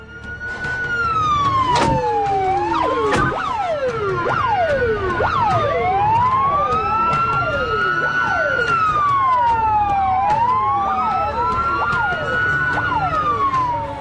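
Police car siren wailing continuously with overlapping rising and falling sweeps, loud and close, layered with a second siren, with brief sharp knocks early on and no talk.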